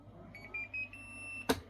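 A Toshiba RC-10VST induction rice cooker with a fault gives a short series of faint, high electronic beeps, ending with a sharper click. The sounds are quiet and close, and there is no talking over them.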